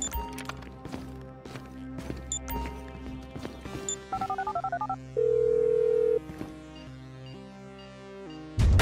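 A phone in Grand Theft Auto 5 being dialed: a quick series of key tones, then a short burst of rapid beeps and a single sustained tone, under game music and background effects.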